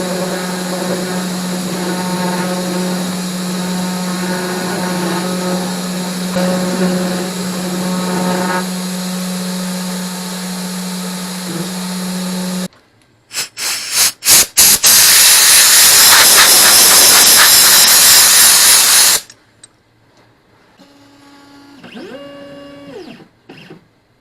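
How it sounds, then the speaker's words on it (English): A homemade CNC machine cutting bamboo: a long steady motor whine with a droning tone, then a loud harsh hissing cut with sharp start-stop bursts, followed by quieter stepping motor tones. "Now over to my CNC machine, which I made."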